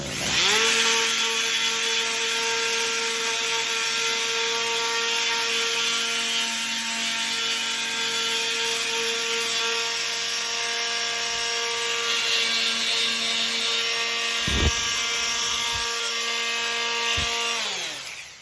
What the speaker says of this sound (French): vous avez même une ponceuse